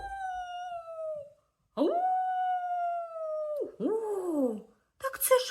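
A wolf howls: long, rising and falling howls, two sustained and a shorter wavering one, close and clear, followed by a brief noisy burst at the end.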